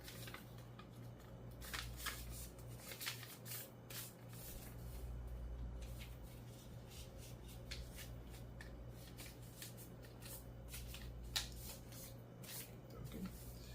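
Paper is softly creased and folded while making an origami star, with faint crinkling and rustling bursts close by over a low steady hum.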